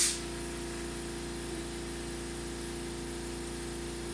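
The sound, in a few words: air compressor running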